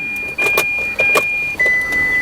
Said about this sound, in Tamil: ஸோ கார் ஆன் பண்ணி காட்டுற பாருங்க.